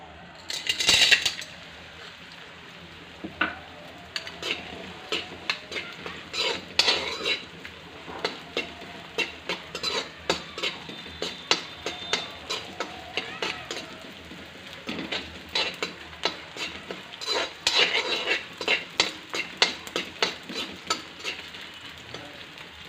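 Gond (edible gum) fries in ghee in a pan while a spoon stirs it. Soft steady sizzling runs under repeated sharp scrapes and clinks of the spoon against the pan, close and fairly quiet, with no talking.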